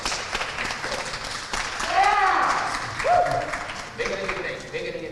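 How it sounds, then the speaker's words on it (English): Audience applause at a Peekskill health initiative ribbon cutting ceremony, a steady wash of clapping from a crowd lasting throughout, mixed with voices and cheering over it. "Yes, you can clap."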